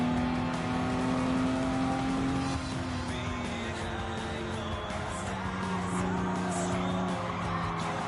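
Race cars lapping in Gran Turismo 7, a steady engine drone with shifting pitch and occasional tire squeal running continuously at moderate loudness, with no talking.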